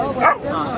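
A dog gives a single short, close bark, quick and yelping, while people talk around it.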